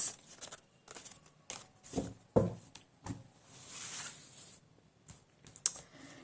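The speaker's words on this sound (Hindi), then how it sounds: "let's shuffle and spread the cards" Tarot cards being shuffled and spread by hand, a faint patter of quick papery taps and soft slides in short bursts separated by brief pauses.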